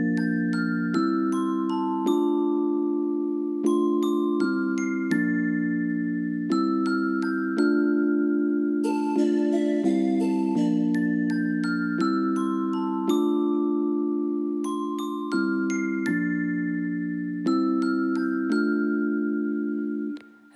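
Synth intro of a song recreated in MainStage: steady repeating bell-like keyboard chords over sustained bass notes, a brief shimmering swell mid-phrase, continuous and loud with no voices.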